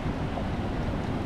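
Waves wash against rocks on a Bay of Islands shoreline in a dense, steady roar of surf and swirling water, close and continuous through a brief moment with no speech.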